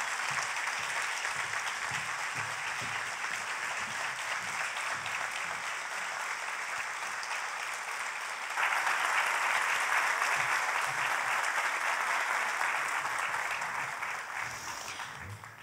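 A concert hall audience applauds steadily as the conductor of a Turkish classical music choir takes the stage, a dense, sustained wash of clapping that swells louder about midway and fades slightly at the end.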